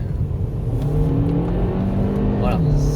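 Hyundai i30 N-Line (2018) engine in sport mode, a steady close rumble that rises slightly in pitch as it revs, with a voice talking over it.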